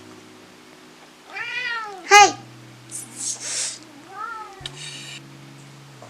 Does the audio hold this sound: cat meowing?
yes